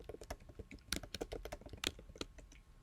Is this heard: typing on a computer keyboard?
yes